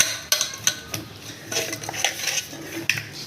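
Fish being turned and mixed with marinade in a bowl before frying, giving close, irregular clinks and scrapes of utensil against dish over soft wet squelching, with no talking.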